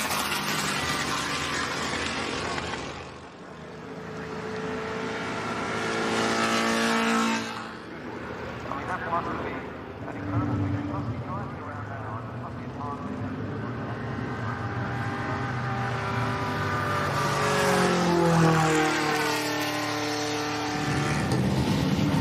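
Vintage race cars at the Goodwood Revival roar past, engines rising and falling as they accelerate and pass near, with a loud commentator talking over the continuous noise.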